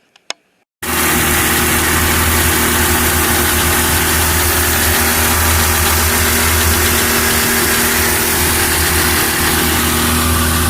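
A Sea-doo GTS 587 jet ski engine, an abandoned scooter revived after sitting dead, starts after a brief click and then runs loud and steady at a rough idle with a slight rattle, close by and alone.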